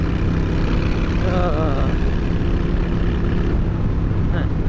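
Motorcycle cruising at highway speed, about 65 to 70 miles an hour, producing a loud, continuous roar of engine and rushing wind with a brief warbling tone in the middle.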